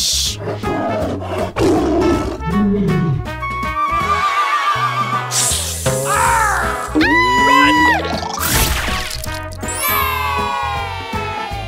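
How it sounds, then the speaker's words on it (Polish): Dense animal roars and growls in a wild-animal scene, including a lion roaring, mixed with neighing and other loud calls over a steady musical backing, continuous and close for the whole stretch. "To jest lew."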